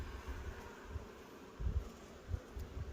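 Honeybees at work on wax foundation inside a hive box, a low, faint buzzing hum with soft swells and pulses as the colony moves across the frames.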